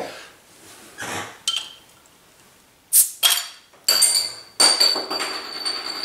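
A bottle of Bath Ales Dark Side Stout, a 4% beer, pried open with a bottle opener: scattered metallic clinks and taps, then sharp cap snaps and a hissing release, close and clear.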